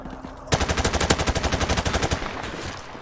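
Rapid automatic gunfire in Call of Duty Modern Warfare Remastered, a loud close burst of about a dozen quick shots fading into echoing tail.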